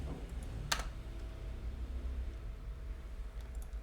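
A password being typed on a computer keyboard, quiet close-up key clicks in an irregular burst with a louder keystroke near the start, under a faint low hum.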